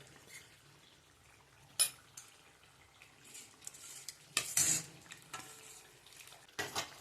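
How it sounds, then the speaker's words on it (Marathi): Gram flour is stirred into mutton cooking in black masala, giving quiet, scattered scrapes and clinks of a spoon in the pot over a faint sizzle, with sharper strokes now and then. "त्याच्यामध्ये डाळव्याचं हे पीठ मिक्स करते मी ह्याच्यामध्ये"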